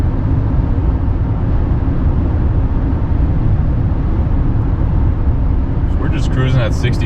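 A 2022 GMC Sierra Denali 3500 pickup cruises at 65 mph, heard from inside the cab as a steady low road and engine rumble, with a brief higher sound near the end.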